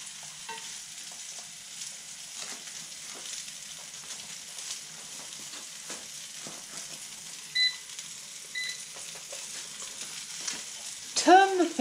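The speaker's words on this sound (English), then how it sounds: "Heat the sauce. Stirring it to keep the oil mixed in." Sauce heats in a pan and is stirred to keep the oil mixed in, during a Roman-style fish cookery session, a faint continuous sizzle with soft scraping strokes and a louder clatter at the very end.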